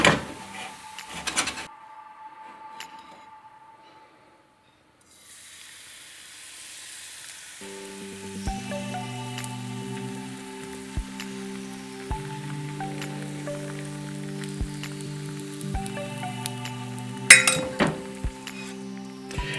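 A crepe sizzling in a frying pan, pushed to the edge and flipped over, giving a steady soft frying hiss with a few faint knocks and scrapes, close by and without talk.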